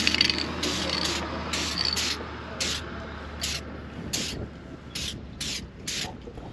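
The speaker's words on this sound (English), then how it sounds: "And we're going to apply the dry lube." Dry lube is sprayed onto an RV slide in a series of short hissing bursts, about ten separate squirts at an irregular rhythm, close up, over a faint background hum.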